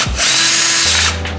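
Ryobi power drill driving and tightening a screw: a short, loud motor whine that holds steady, then drops in pitch as the screw seats, all over in about a second.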